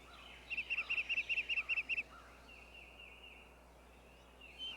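A wild turkey gobbles in a rapid burst of about a dozen rattling notes, clear but moderately distant against quiet background hiss.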